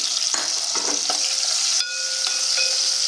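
Loud, steady sizzling of sliced onions frying in hot oil, with a few scraping stirs early on and a faint tonal hum behind.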